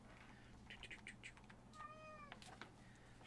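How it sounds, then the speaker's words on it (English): A house cat meows quietly a few times, with a string of short chirps followed by one longer, drawn-out meow, all faint against a low background hum. "Quiet, you cat."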